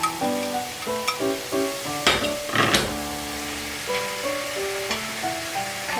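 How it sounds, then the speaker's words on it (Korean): Eggplant and meat stir-fry together in a pan for Korean gaji-bokkeum, giving a steady sizzle with bursts of louder crackling as the food is stirred. A soft melodic backing plays underneath. "고기가 어느 정도 볶아졌으면 가지를 넣어줍니다."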